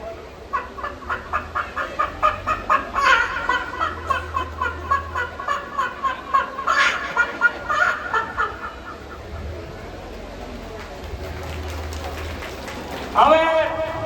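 A man mimics a rooster, starting with a fast run of clucks that build into strained, drawn-out crowing calls, close and loud, ending with a short sharp cry.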